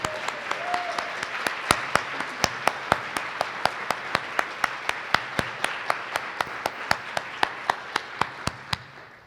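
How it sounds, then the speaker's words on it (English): A conference audience applauds at a public media women's leadership event. One sharp, evenly paced clap rings out close by over a continuous bed of crowd clapping, which tapers off near the end. "Can we all just applaud this lady, Deanna Mackey, for putting this together?"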